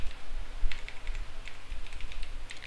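Fingers type on a computer keyboard at a Windows 10 PC in a quick, uneven run of close keystrokes that lasts under three seconds.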